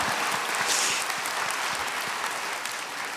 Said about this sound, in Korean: 박수를 치려면 치고 말하고